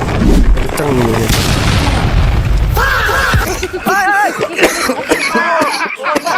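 A person coughs several times in quick, harsh bursts near the microphone, mixed with loud booming game or video sounds and some vocalizing.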